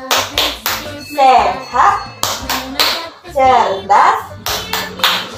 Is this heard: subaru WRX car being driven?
no